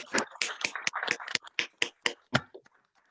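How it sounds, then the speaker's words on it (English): A few meeting participants give a short, scattered round of clapping for Beth at a waste management board meeting, with sparse individual claps fading out after a couple of seconds. "So maybe we'll just give a round of applause to Beth."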